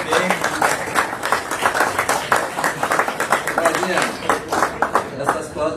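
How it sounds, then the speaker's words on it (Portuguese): An audience at a talk claps for a birthday, giving quick rhythmic bursts of hand clapping close by, mixed with some voices. "Claudinha, esse aplauso não é para o palestrante, é para você."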